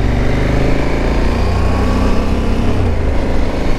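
A KTM Super Adventure 1290 motorcycle accelerates hard on a dual carriageway, its engine note loud and continuous throughout with a steady roar and rising rev pitch, close to the rider.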